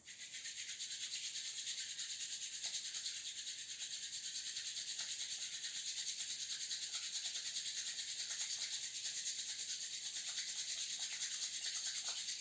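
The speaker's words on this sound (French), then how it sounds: "On va venir se frotter les mains très très fort pour bien réchauffer les mains" Palms rubbed together hard and fast to warm them during a mobility exercise class, a steady, continuous hissing friction held for the whole stretch at an even level, with no voices.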